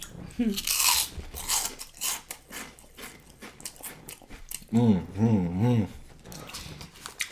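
Crunchy bites into a Taco Bell Double Crunchwrap and chalupa during an eating show, with close crackling crunches and chewing spread through the clip, a voiced hum near the end, and some talk mixed in.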